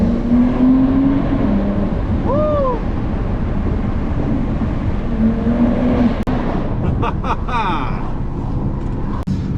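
A Porsche plug-in hybrid's combustion engine pulls in Sport Plus mode with a steady mid-pitched drone that climbs slightly, under heavy road and cabin noise and a faint voice.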